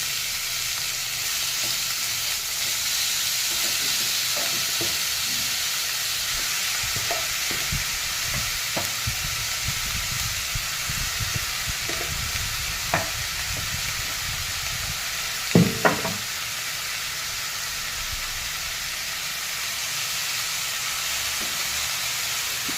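Chopped banana stem (pachola) fries and sizzles in a pan, a steady loud hiss running throughout with occasional light clinks of stirring and one sharper clatter midway.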